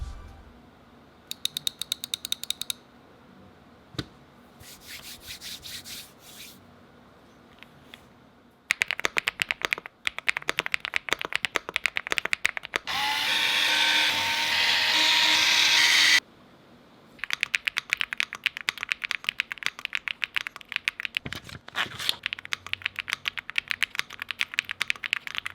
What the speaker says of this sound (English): I love the sound of this keyboard. It sounds like bubble wrap being popped